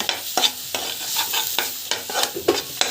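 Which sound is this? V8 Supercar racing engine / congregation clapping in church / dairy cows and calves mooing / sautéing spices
sautéing spices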